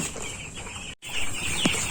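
Young broiler chickens, about a week old, in a poultry farm shed: busy flock chatter and wing flutters close by, with a brief cut in the middle.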